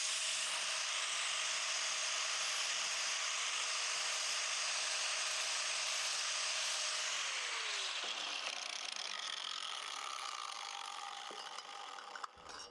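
An angle grinder works on the exhaust muffler of a BMW G310 R motorcycle, a loud continuous high whine that shifts pitch midway and then tapers off near the end.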